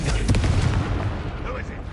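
A Confringo blasting spell explodes in the video game Hogwarts Legacy, with a deep booming burst and rumbling tail under game sound effects, followed by a short tonal chime.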